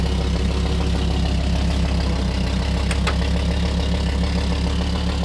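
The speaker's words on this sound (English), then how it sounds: "This is a normally aspirated inline 5-cylinder." An Audi's normally aspirated inline five-cylinder engine idles nearby with a steady, even, low throbbing rumble, alone and unchanging throughout.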